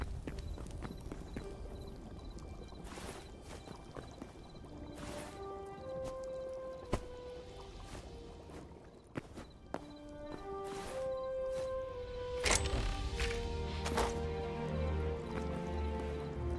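Hollow, clip-clopping hoofbeats of a skeleton horse in the video game Hytale, faint and intermittent over game ambience with soft chiming tones and a few sharper knocks.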